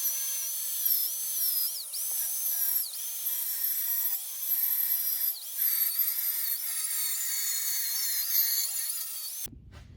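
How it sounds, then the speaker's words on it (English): A power tool cuts a metal part for a bed mounting on a Tri-Five pickup restoration, giving a steady high-pitched whine that dips briefly as the blade loads up, with no one talking. "So basically I'm going to cut this out right here."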